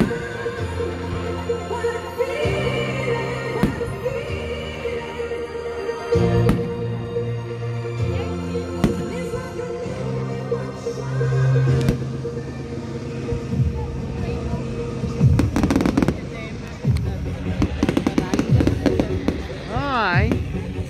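Fireworks display in Paisley in 2019, heard as repeated booming bursts and crackles from a distance, with crowd chatter and nearby voices talking over the explosions throughout.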